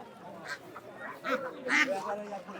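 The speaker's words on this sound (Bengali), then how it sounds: "আর এই যে এখানে বিক্রি হচ্ছে পাতি হাঁস" Domestic ducks quack in a few short, nasal bursts at a poultry market at Golakandail Hat, fairly quiet and mixed in with a person talking nearby.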